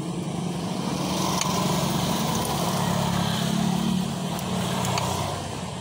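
Honda Beat scooter engine idling with a steady, close, loud mechanical grinding hum from a loose connecting rod, running continuously without talk.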